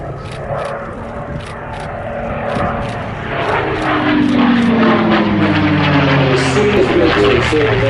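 A P-51 Mustang fighter flies past at the Sywell Airshow. Its piston engine drones loudly and steadily, and the tone sweeps downward as the aircraft passes close by.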